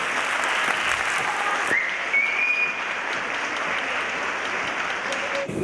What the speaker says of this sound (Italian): un bel applauso di incoraggiamento